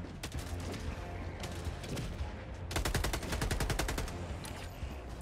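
Rapid automatic gunfire from a gun in the video game Helldivers 2, with short bursts early on and then a long sustained stream of sharp, evenly spaced shots over a rumbling battle background.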